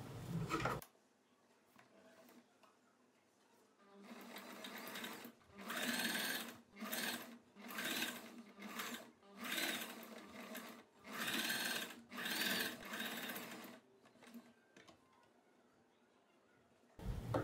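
Sewing machine stitching along a kurti neckline, running in several bursts of rapid mechanical whirring and clatter separated by short pauses, close and steady, with no talking.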